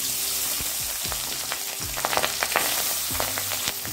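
Soft pabda fish fries in hot mustard oil in a wok, giving a constant, close, crackling sizzle with small pops and a low hum beneath.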